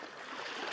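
Sea water at the shore on a late-August seaside trip, a steady broadband wash of waves and trickling surf, close and continuous, with no voices.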